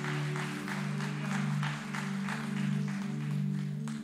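A church congregation claps in loose bursts, fairly quiet and somewhat distant, over a steady organ or keyboard drone that sustains underneath.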